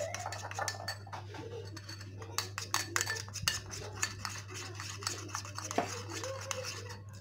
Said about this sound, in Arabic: غادي نمزج هاد العناصر مزيان